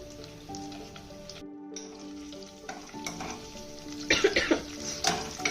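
Chilies, crushed garlic and curry leaves frying in oil for rasam, a steady close sizzle that swells louder and crackles near the end, with a stir and a brief dip midway.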